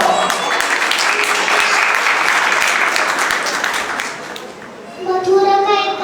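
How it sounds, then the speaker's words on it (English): An audience at a school program gives a round of applause, steady clapping for several seconds that fades before a voice and other voices begin speaking near the end. "So let's give them a big round of applause."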